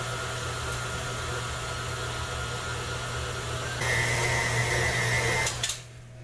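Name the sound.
mixer mixing cake filling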